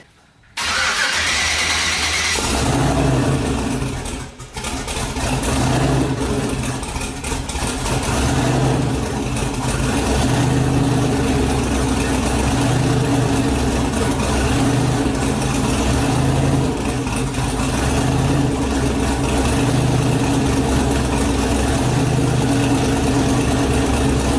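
A car engine starts up and then idles steadily and loudly through a heat cycle for a long stretch, with a low rumble and slight fluctuations in pitch.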